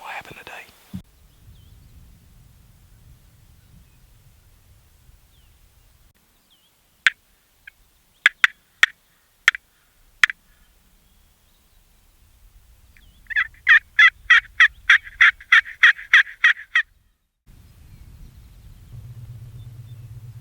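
Wild turkeys gobble from a field during a public-land hunt in North Carolina, a few sharp rattling gobbles followed by a longer rapid burst, clear against quiet surroundings, with soft whispering before and after.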